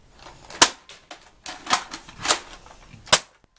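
A toy Nerf blaster fitted with two replacement springs fires four sharp, loud cracks at irregular intervals, with faint clicks and mechanical handling sounds between shots, close to the microphone.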